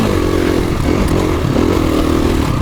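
Motorcycle engine running steadily and loud throughout as the bike is ridden, a continuous close mid-frequency drone with slight revving variation and faint clatter.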